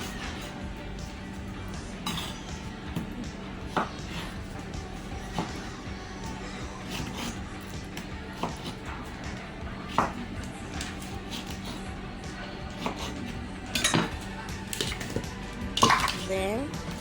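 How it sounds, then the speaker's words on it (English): Mangoes being sliced in a home kitchen for Jamaican mango punch: soft, scattered knife taps and clinks of cutlery against dishes over a steady low background hum, with occasional louder clatters near the end. "my mom is slicing up the mangoes to put in the blender"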